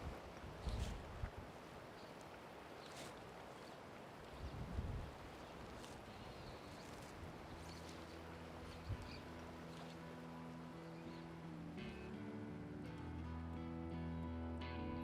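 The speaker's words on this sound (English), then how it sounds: "here comes the wind" Wind blows steadily across a spring fly-fishing spot on the water, a broad continuous rush with gusts buffeting the microphone, growing slightly heavier toward the end, with no talking.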